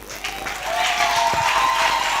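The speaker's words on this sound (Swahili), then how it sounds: "Makofi na vigeregere." Audience applause mixed with crowd noise at a women's youth drama performance, rising from a lighter start into sustained clapping that holds for about two seconds.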